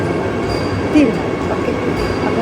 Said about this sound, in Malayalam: അതാ നമ്മുടെ വന്ദേ ഭാരത് ട്രെയിൻ വന്നുകൊണ്ടിരിക്കുകയാണ്